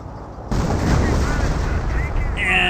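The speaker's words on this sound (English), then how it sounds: "They're getting ripped apart by the artillery." Artillery fire in Company of Heroes, a loud sustained barrage of booms and blasts erupting after a brief quieter lead-in and rumbling on continuously through the rest of the moment.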